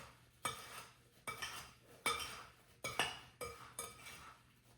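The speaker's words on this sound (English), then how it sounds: "Just mix the apples in with this sugar mixture." Apples stirred into a sugar mixture in a bowl for an apple fritter cake, with a utensil scraping and clinking against the bowl in about six close, regular strokes.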